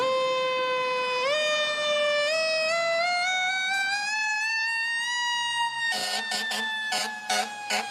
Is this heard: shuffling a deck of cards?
no